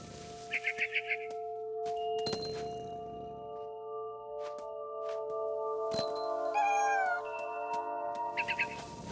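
A cat meows in the video game What Remains of Edith Finch, with a few soft meows set among bird chirps, a metallic clink and faint ambient game tones in a quiet scene.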